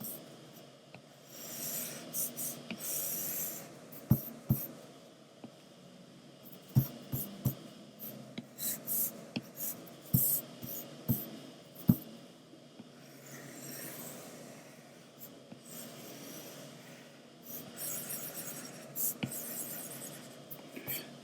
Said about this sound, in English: taking your wooden pencil, doling it down a little bit, using a number 2 wooden pencil if you have one, and just going through and adding some darker,